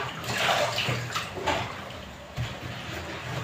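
Vegetables being washed by hand in a basin of water, with continuous splashing and swishing that rises and falls, close and moderately loud, with no talking.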